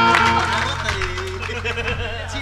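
Audience applause and cheering at a Bhojpuri stage event, a dense patter of clapping with crowd noise, loud and close, mixed with voices.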